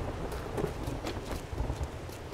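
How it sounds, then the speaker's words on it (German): Game rain ambience in 7 Days to Die: a steady, fairly soft wash of falling rain with faint scattered patters and a low rumble underneath, heard without talking. "Okay, Regengeräusch, aber die Sonne scheint."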